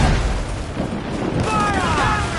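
A volley of gunfire cracks out near and loud at the start, then gives way to a rumbling wash as shouting voices carry over it.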